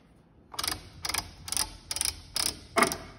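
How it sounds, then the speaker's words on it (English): The lead screw of an LS positioner turns and binds, giving six evenly spaced scraping, rubbing bursts roughly every half second, close and clear against a quiet background. "the lead screw seems to be rubbing on something at some point"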